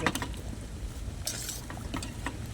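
Quiet scraping and stirring of pasta for carbonara in a pot, with soft clinks of a utensil against the metal over a low bubbling background.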